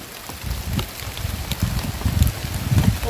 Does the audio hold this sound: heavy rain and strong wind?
yes